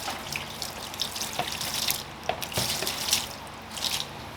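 Water is poured and splashed over a motorcycle tire, giving a steady wet patter with scattered drips and splashes close by, and no one speaks over it.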